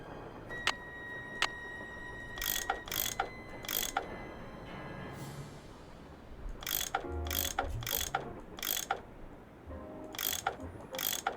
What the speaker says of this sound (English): I bet that's what you use to unscrew these bolts.